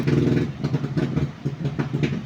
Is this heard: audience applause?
no